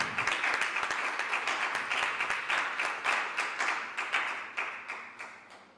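A church congregation applauds during worship, with a moderate round of rhythmic clapping that keeps a steady beat and slowly tapers off.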